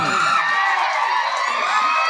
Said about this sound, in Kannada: ಬರ್ಲಿ ಒಂದ್ಸರಿ ಜೋರ ಚಪ್ಪಾಳೆ